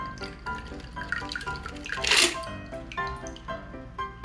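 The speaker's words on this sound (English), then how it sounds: "Discharging the ice and straining. This time we could do it with a double strainer." A martini cocktail is strained through a double strainer into a glass after the ice is discarded, giving a brief splashing pour in the middle among light clinks and handling noises.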